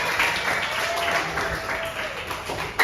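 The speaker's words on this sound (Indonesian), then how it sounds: "Good job ya, tepuk tangan untuk Justin." A class of students gives a short burst of applause in a classroom lesson, a fairly soft, uneven patter of clapping with some voices underneath.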